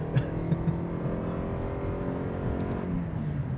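A 2025 Toyota Prius XSE Plug-In hybrid launching hard from a brake-torque start with tires spinning, a steady, fairly loud engine and road roar held throughout without talk.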